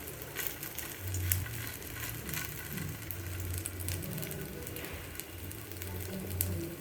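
Poppy seed paste patties sizzle steadily in hot oil in a pan, a continuous close crackling fry with a soft low bubbling underneath.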